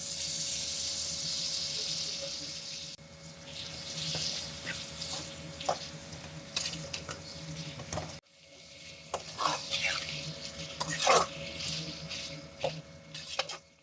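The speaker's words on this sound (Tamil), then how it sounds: "இப்போ நம்ம இறாலை இதோட சேர்த்துக்கலாம்." Prawns sizzle in a masala of Kashmiri chili powder and coconut paste in a pan, a close, steady frying hiss broken by repeated scraping stirs, with a short pause midway.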